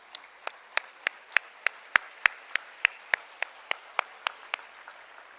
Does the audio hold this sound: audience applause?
yes